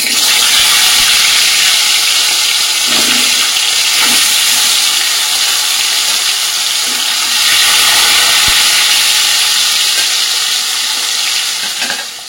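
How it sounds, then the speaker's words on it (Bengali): Fish rubbed with salt and turmeric fries in hot mustard oil in a kadai, a loud, steady, close sizzle that hisses without a break, with a few faint utensil knocks underneath. "তেলের মধ্যে দিয়ে দেবো নুন হলুদ মাখিয়ে রাখা মাছ"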